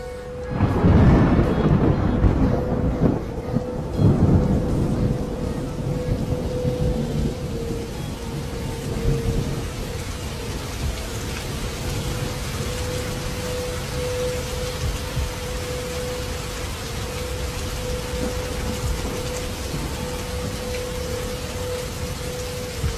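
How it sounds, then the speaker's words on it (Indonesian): Heavy rain pours steadily outside a long-empty house, a dense continuous hiss that is loudest in the first few seconds with heavy drumming, then settles into an even downpour. "ketika sedang turun hujan lebat"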